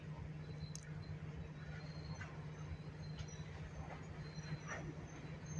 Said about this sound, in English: the Reisdorfs with Arcade Attica RS3M number 406 coming in with their train.